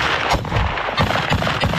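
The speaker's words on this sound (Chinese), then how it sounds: "边开枪边挺进巴赫姆特战场上，还有两架直升机发射火箭弹幕。" Soldiers advancing on the Bakhmut battlefield fire their guns in rapid, overlapping cracks and bursts throughout, loud and dense with no pause.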